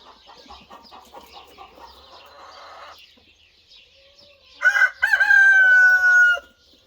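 In a farm chicken run, hens cluck softly and repeatedly at close range, then a rooster lets out one loud, drawn-out crow that dominates before fading.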